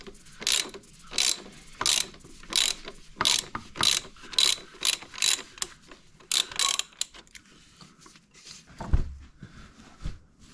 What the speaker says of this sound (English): So 32mm socket with an extension as well. Should be able to get that on there. Just start unscrewing it.